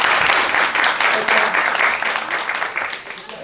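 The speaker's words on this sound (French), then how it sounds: "comme ça on va bien l'applaudir" Close, lively applause from an audience at a literary event celebrating a novel, with many hands clapping densely and fairly loudly for a few seconds, easing off slightly at the close.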